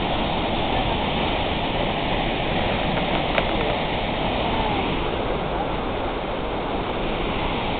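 Minnehaha Falls roars in late May with heavy water flow, a loud, continuous broadband rush heard up close, with faint voices in the background.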